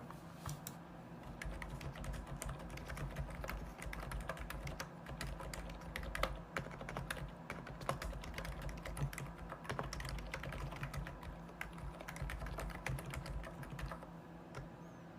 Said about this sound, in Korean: 키보드 소리 좋죠.